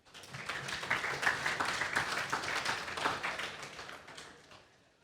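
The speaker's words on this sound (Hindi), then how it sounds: "तालियां बजाएं इस पे।" An audience at an EFU Life Insurance promotional talk claps, a fairly quiet, sparse patter of hands that swells, holds and then tapers off near the end.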